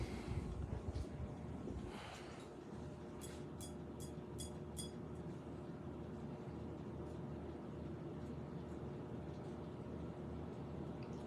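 A Broan 52-inch ceiling fan running on high speed makes a steady, even whoosh of moving air over a low hum, with a few faint ticks early on.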